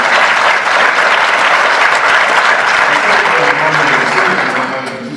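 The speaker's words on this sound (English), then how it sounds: "let's give our MC a hand clap of praise" A live comedy show audience gives the MC a loud, sustained round of applause, dense clapping and crowd noise filling the room before tapering slightly at the end.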